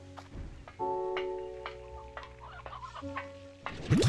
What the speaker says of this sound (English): I keep collecting chickens.